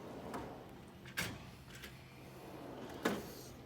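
A Snap-on Master Series toolbox drawer slides open on its runners, with a few short metallic clunks and rattles over a quiet background.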